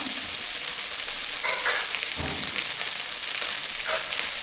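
Parboiled, salted chicken frying in a pan, a loud dense sizzle and hiss that runs unbroken throughout, with a few stirring knocks, close up and without talk.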